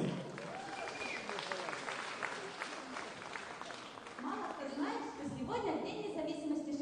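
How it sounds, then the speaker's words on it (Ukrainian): Audience applause at a KVN comedy tournament semifinal game, with broadband clapping running throughout, swelling louder near the end while a presenter's voice is heard over it. "зараз гучними оплесками зустрічаємо"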